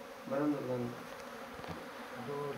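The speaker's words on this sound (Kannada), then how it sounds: "ಜೇನಿನ ಪಗರೆಯನ್ನು ತೆಗೆದು ಅದು ಕ್ಯಾರ್ ಅನ್ನದೆ ಜೇನನ್ನು ಹಿಡಿತಾ ಇದ್ದಾರೆ" A colony of honey bees being removed from under a house roof gives off a steady, low buzzing hum that swells and fades, with many insects droning close by.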